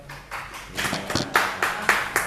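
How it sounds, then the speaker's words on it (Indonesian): A classroom of students claps for classmates during an art and design lesson, a few hands beating in uneven, fairly close bursts that build into a loose rhythmic clapping. "kita berikan tepuk tangan teman-teman"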